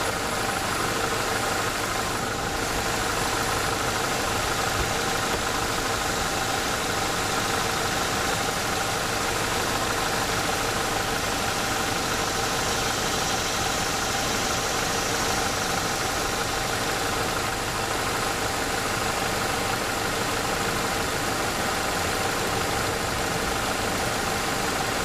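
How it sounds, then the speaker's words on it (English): A Ford Fusion engine idles with its A/C compressor engaged, producing a continuous, loud, even drone and hum with a faint knocking texture that stays steady throughout, with no voices. "so the compressor came on, it's running"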